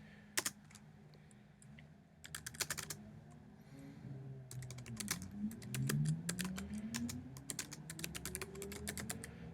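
Bursts of typing on a computer keyboard as a report comment is written, crisp clicking clusters with pauses between them over a low background hum.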